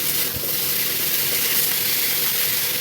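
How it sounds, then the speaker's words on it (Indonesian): Bitter gourd stir-frying in a pan: a steady, loud broadband sizzle and hiss with no break, close up, with a faint clank near the start. "Kita tumis hingga benar-benar itu parenya matang, tercampur rata"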